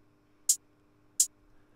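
Two plain, identical hi-hat hits in a drum and bass track, soloed and spaced about 0.7 seconds apart, crisp, bright and short, with nothing else playing.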